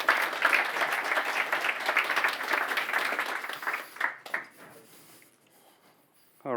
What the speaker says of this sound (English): can I get a big round of applause of Sofico and Ruben from Sofico?